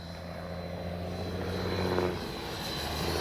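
A HobbyKing FlyCat V2 RC jet, on only its second flight, makes a steady airborne whine and drone that swells briefly near the middle, with no voices over it.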